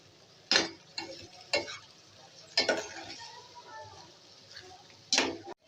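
Onion, tomato and chili stirred in a pan, with several sharp scraping strokes of a spoon against the metal over a faint sizzle, spaced irregularly.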